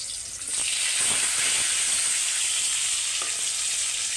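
Sweet potato slices coated in a light chili spice mix frying in oil, giving a steady, close, dense sizzle that swells after a quieter start and holds without talk.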